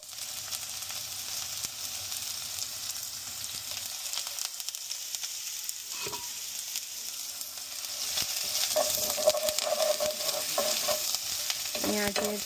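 Onions sizzle in hot oil in a pan for a chicken broth soup, a steady close frying hiss with occasional stirring scrapes, swelling louder toward the end, with no talk.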